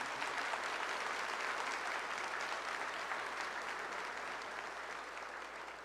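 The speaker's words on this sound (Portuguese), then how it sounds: "Vamos aplaudir poderosamente." Church congregation applauding powerfully after a Gospel reading, a dense, sustained wash of clapping heard from a distance that stays steady and then fades slightly at the end.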